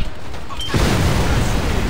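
An explosion in Saints Row 2 erupts suddenly as a loud, dense roar that holds steady to the end, with nothing else heard over it.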